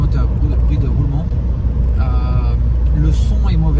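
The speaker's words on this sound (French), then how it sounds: "pas de bruit de moteur, beaucoup de bruit de roulement" Steady, loud road and tyre roar fills the cabin of a 2018 Subaru Impreza WRX driving on a wet road, with a voice talking over it.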